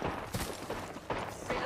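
Gunfire crackles in Apex Legends, several sharp bursts spaced through a short firefight, loud and close, mixed with game voice lines.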